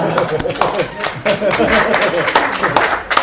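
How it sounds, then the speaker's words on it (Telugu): An audience claps for two young children at a Warangal kids' show, with a burst of scattered clapping mixed with chatter and voices running throughout. "ఒకసారి క్లాప్స్ కొట్టండి వీళ్ళిద్దరికి"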